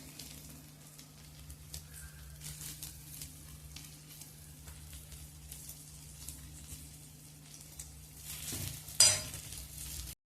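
An egg and bread mixture fries in a pan with a faint, steady sizzle and a few light spoon scrapes, ending in a brief louder clatter.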